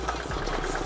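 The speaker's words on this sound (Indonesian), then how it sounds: "Knalpotnya suaranya enak, boy" Engine with a CJDW standard-series exhaust runs with a brief, fairly quiet, rough chugging rumble, no voices.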